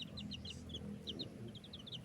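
Chickens cluck in quick short bursts close by in a small backyard coop, soft against a low background hum.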